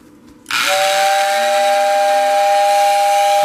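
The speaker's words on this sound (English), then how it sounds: "A nice strong whistle sound." A serviced postwar toy train whistle blows loud and steady for about three seconds, with a strong airy hiss and clear sustained tones, after a brief quiet lead-in.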